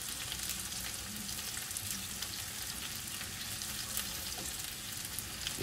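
Smashburger patties sizzle on a griddle with onions, a quiet, constant hiss and crackle with faint scraping taps now and then.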